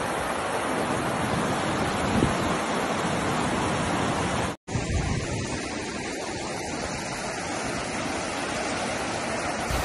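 A clean river in Japan flows in a broad, steady rushing roar, loud and close, unbroken except for a momentary dropout midway.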